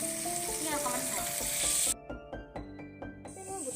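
Chickpeas sizzle loudly in a hot pan, a dense frying hiss that suddenly drops to softer crackles and scraping stirs.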